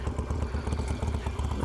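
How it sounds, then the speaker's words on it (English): A Harley-Davidson motorcycle engine runs through an aftermarket Sony exhaust pipe, giving a deep, loping, rhythmic idle rumble with regular low pulses, close and steady. "Man, that Sony exhaust sounds amazing"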